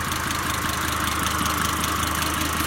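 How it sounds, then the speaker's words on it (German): A Mercedes-Benz 190 W201 diesel idles with its accessory cover missing, a loud, steady, close clatter with an even knocking rhythm and constant drone throughout, no voices. "Motor läuft."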